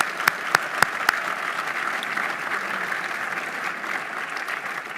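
Audience applause thanking sponsors at a Canadian Club luncheon event, opening with a few crisp close claps before settling into a steady, full wash of clapping from a large room.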